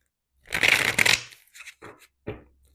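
Tarot cards riffled and shuffled back into a gold-edged deck, a dense crisp flutter lasting under a second followed by a few short softer card taps and slides, close and alone.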